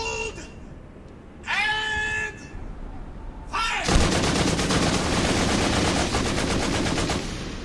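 Rapid, loud gunfire bursts from a Warhammer 40k–themed animated parody, sustained automatic fire filling the second half after short voiced exclamations and tonal effects at the start.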